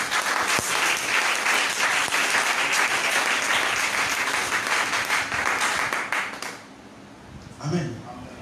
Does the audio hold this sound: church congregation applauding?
yes